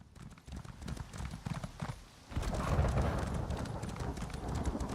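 Horse hooves clip-clopping in a video game, a steady run of hoofbeats that grows louder and denser midway, with faint voice sounds in the background.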